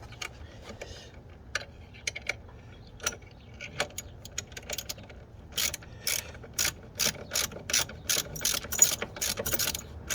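A ratchet with a 3/8 socket tightens a billet aluminum sway bar end link on a Can-Am Ryker. Sparse clicks and taps come first, then quick bursts of close ratcheting clicks in a steady rhythm, with no talking.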